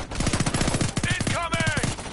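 Automatic gunfire in the first-person shooter Homefront: The Revolution, a rapid, steady stream of close, punchy shots over about two seconds, with shouted voices mixed in near the middle.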